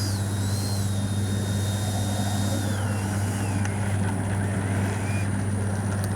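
Steady drone of an FMS 70mm Yak-130 RC jet's electric ducted fan cruising at relaxed throttle, a continuous whine with a low hum, heard at moderate distance under occasional speech.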